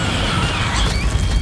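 A Levioso spell cast in Hogwarts Legacy gives a dense, loud burst of rumbling low crash and shimmering noise that holds steady for about a second and a half, with no talk over it.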